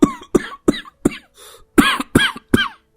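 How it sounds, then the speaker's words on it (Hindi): A man coughs repeatedly nearby, eight harsh, rasping bursts in a steady rhythm with short pauses between them and one softer, strained breath partway through. "कब से खांस रहे हैं"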